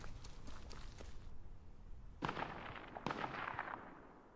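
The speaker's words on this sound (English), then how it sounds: "It looks like he's shooting with a shotgun." Shotgun blasts from the video game Duckside, two sharp reports about a second apart, each followed by a rolling decay, rising out of a busy ambient game bed.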